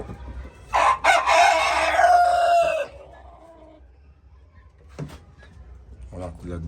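Rooster crowing loudly and close on a small poultry farm, one long crow followed by quieter clucking from chickens, with people talking nearby.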